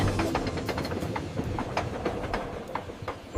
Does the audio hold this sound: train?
yes